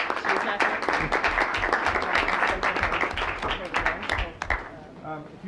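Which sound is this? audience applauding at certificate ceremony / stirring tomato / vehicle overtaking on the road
audience applauding at certificate ceremony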